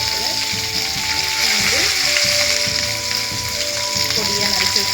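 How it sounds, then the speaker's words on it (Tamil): Mustard seeds and urad dal spluttering in hot oil, a dense continuous crackle and sizzle with rapid popping, close and fairly loud throughout. "கடுகு, உளுந்தம்பருப்பு, கடுகு நல்லா பொரிஞ்சு வரட்டும்."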